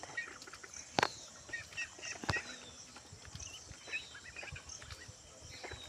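Faint, scattered honking and quacking calls from a few ducklings, irregular and nearby, with quiet background noise between calls.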